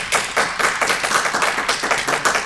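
A small group of audience members claps in a quick, uneven burst to vote during a comic convention panel ranking SNES games, close and distinct with no talk over it.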